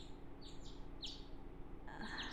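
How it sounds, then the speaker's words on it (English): Morning birdsong in the Hakuoki: Kyoto Winds game, several bright chirps and short trills scattered over a soft steady background hum, with a denser burst of calls near the end. "The birds chirping woke me up."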